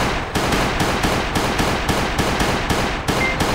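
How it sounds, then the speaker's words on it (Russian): Rapid bursts of gunfire from the survival video game Last Day on Earth: Survival, a steady stream of loud, evenly spaced shots filling the whole stretch with no talk. "Последний выстрел, все, мы убили его"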